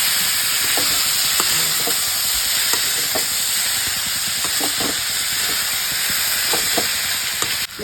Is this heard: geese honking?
no